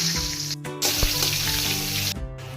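Whole cumin, green chili and bay leaf crackle and sizzle in leftover hot oil in a kadai, a steady loud frying hiss with two brief gaps where the sizzling drops out.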